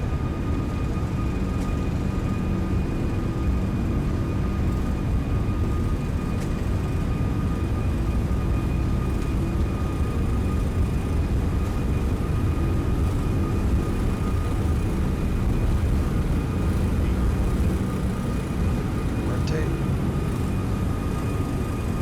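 A Toliss A340-600 airliner's four engines roar steadily through a takeoff roll in a flight simulator, a loud, constant broadband rumble with faint tonal whine and no break.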